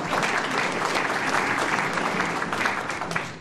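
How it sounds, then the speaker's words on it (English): A large audience at a National Press Club climate change debate in Canberra applauds steadily, dense broadband clapping sustained at an even level throughout with no voices over it. "can we give him a round of applause"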